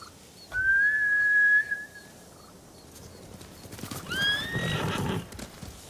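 Samurai horses in Ghost of Tsushima give a loud, sustained whinny, then a second neigh follows with hooves clip-clopping underneath, close and alone without talk.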